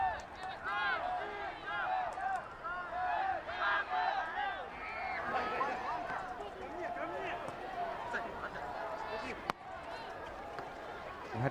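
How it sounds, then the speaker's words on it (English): Brazilian supporters cheer and chant in a stadium crowd at a Paralympic 7-a-side football match in London's Olympic Park, a steady dense roar of many voices running throughout with occasional louder swells. "we hear the Brazilian fans in the crowd"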